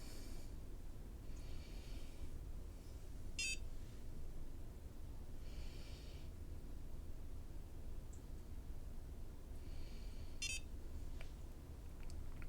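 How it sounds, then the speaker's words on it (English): A few short electronic beeps from a NuFace microcurrent facial device sound at intervals over a steady low hiss, faint and with no talking. "Hold till you hear the beep."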